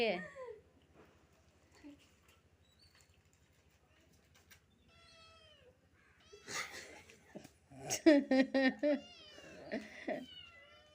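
A mother cat meows repeatedly, with several loud, drawn-out cries clustered late on, while a person speaks softly in between and quieter chirping sounds drift in the background.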